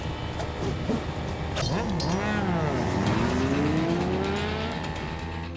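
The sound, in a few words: chase scene from a film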